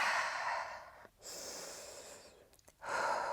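Slow, steady breaths drawn in and let out during a strength-focused yoga session, close and fairly soft, with brief pauses between inhale and exhale and no talking.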